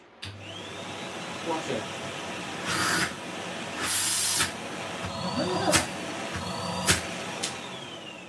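A Numatic Henry HVR160 vacuum cleaner hums steadily throughout, with a few brief hissy bursts as its plastic body flexes under suction, while a person speaks briefly nearby.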